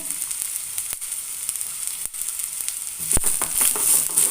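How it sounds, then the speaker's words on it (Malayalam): Shallots frying in hot coconut oil in a pan, a steady close sizzle throughout that swells louder and crackles more sharply toward the end, with no talking. "വെളിച്ചെണ്ണ ഒഴിച്ചു ചൂടായി എനിക്ക് ഉള്ളിയിട്ട് കൊടുക്കും"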